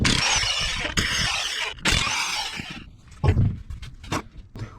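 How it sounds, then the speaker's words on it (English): An impact wrench zips lug nuts off the front wheels of a 2004 Chevy Impala 3.4 in two loud, harsh, close bursts, each lasting about a second. Lighter clanks and handling noises follow. "I'm going to use the impact and get my wheels off"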